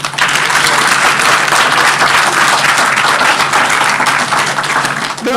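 A loud, sustained round of applause from a crowd at a primary school rededication ceremony, with many hands clapping steadily across the whole stretch before it starts to taper off right at the end.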